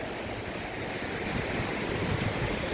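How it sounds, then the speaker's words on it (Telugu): Steady rushing water with gusty wind from cyclone Montha in a village amid heavy rain, a broad, continuous roar at close range with no voices. "వాటర్ సౌండ్ వినండి ఒకసారి ఎలాగొస్తుందో."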